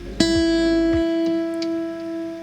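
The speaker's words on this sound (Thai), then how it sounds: "สาย 1 เสียง E ครับ" A single open high E first string on a guitar, plucked once for tuning, rings out clear and sustained, its bright tone slowly fading with no voice over it.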